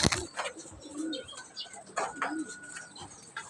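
Pigeons coo softly at feeding time, with low murmuring calls, faint chirps and scuffling nearby, all at a quiet level.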